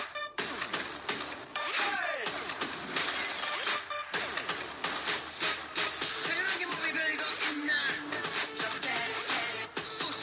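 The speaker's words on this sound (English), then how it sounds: "adding that little glass kind of sound effect was really cool" A glass-shattering effect in a K-pop music video bursts over the loud backing track. It is followed by a run of crisp breaking and tinkling accents.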